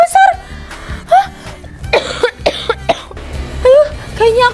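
A young woman in an Indonesian comedy skit coughs repeatedly after eating ice cream, several harsh close coughs mixed with laughter and chuckling vocal sounds.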